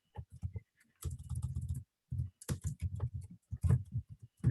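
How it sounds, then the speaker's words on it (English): Computer keyboard typing picked up through an open microphone on a video call, a steady run of rapid clicking keystrokes in irregular bursts with short pauses, fairly close and alone without talk. "the sounds of a keyboard are coming through"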